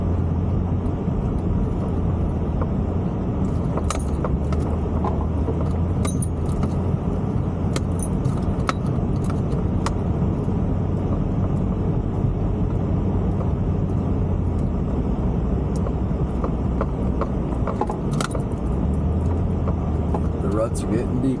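A four-wheel-drive vehicle rolls along a rutted dirt coastal road near Brookings, Oregon, its engine a steady low rumble inside the cab with rattles and knocks from the bumpy ground, and people talking over it.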